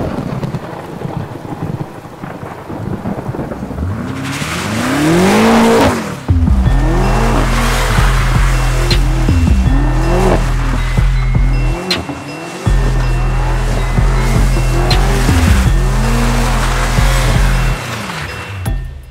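BMW M5 2018 with a 4.4 V8 of 600 hp revs hard and loud in rhythmic bursts while drifting, with its exhaust note rising and falling close by and a rough, hissy texture that may be tire squeal.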